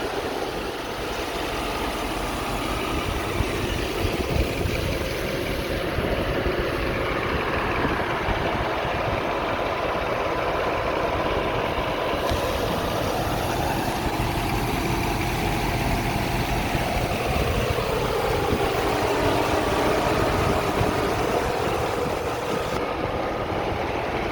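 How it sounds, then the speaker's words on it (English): A 1991 Mercedes SL500 roadster's V8 engine idles steadily nearby, a continuous low rumble with an even, unbroken drone and no voices over it. "Nice big V8, pushes this car along beautifully"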